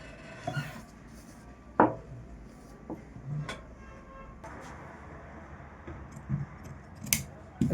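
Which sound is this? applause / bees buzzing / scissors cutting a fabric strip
scissors cutting a fabric strip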